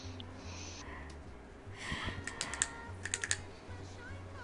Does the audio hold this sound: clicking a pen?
yes